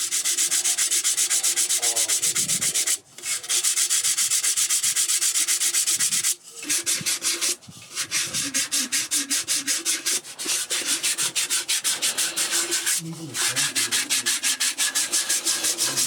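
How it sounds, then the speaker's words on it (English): An artisan sands Mata Ortiz clay pottery nearby, a steady rasping rub in rapid repeated strokes, loud and close, broken by a few brief pauses. "There is another artist close by sanding some pieces."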